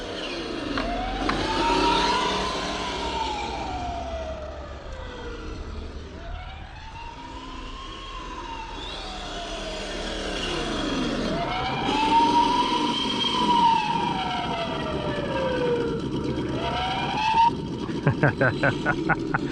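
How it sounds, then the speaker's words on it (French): A wailing electronic emergency siren from an RC car sound module sweeps up and down repeatedly, with a voice talking over it and a quick switch to another siren tone at the end. "tu as aussi plusieurs choix de sirènes évidemment"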